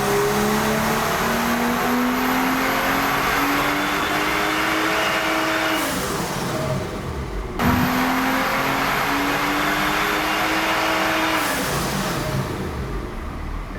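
A tuned BMW F30 drives on the road with an engine revving up through two long, rising pulls, a gear change breaking each, loud and close, with no voices.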